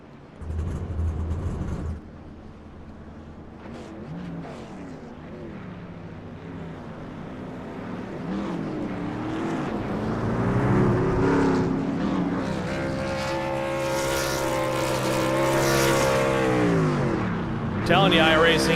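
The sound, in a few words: race cars at the start-finish line in iRacing video game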